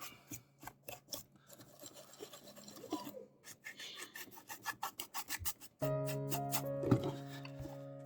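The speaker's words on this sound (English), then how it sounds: "I'm almost done with the metallic dry brushing" A brush loaded with metallic paint is dry brushed over a Gaslands model building in quick, close rasping strokes that grow faster, then a steady tonal hum joins near the end.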